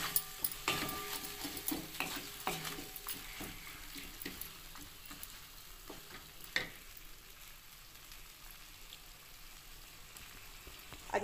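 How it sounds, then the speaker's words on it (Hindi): Mixed vegetables and boiled potato fry in a pan for paratha filling, a soft steady sizzle with intermittent scraping and clinks of a spoon stirring, loudest at the start and then quieter. "और अब इसको मैं अच्छी तरह से भूनूंगी।"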